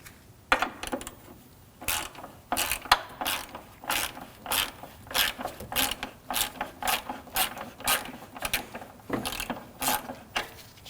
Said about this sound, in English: Now we'll remove the battery tie down using a 10mm socket.